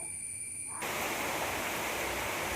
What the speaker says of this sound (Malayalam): ഇവിടെ ഇപ്പം ഭയങ്കര കാറ്റും മഴയാട്ടോ